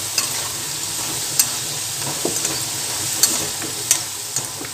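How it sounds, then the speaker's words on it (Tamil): Potatoes frying until crispy with chilli powder and salt, a steady close sizzle in a pan broken by occasional sharp clinks and scrapes of stirring. "பொட்டேட்டோவை இந்த அளவுக்கு நீங்கள் கிறிஸ்பியாக ஃப்ரை பண்ணி சாதத்தில் சேர்த்து நீங்கள் குழந்தைகளுக்கு கொடுங்க"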